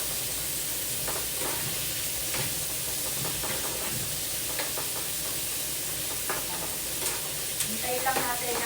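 Sliced bitter gourd (ampalaya) fries in a pan with a steady, loud sizzle throughout, while a utensil scrapes and taps against the pan in occasional light knocks.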